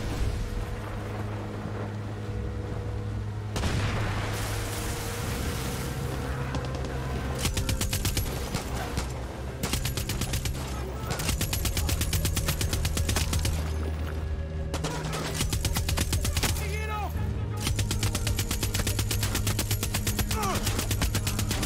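Dense gunfire in Far Cry 6: sustained automatic bursts and volleys of shots rattle on for long stretches, broken by short lulls, under a low steady hum of engine or background drone.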